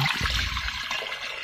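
Continuous rushing splash of water pouring steadily into an Instant Pot, close and fairly loud.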